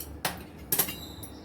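A spoon stirs flour dough mixed with boiling water for Malvani vade in a metal vessel, giving two or three sharp clinks and scrapes close by within a second and a half.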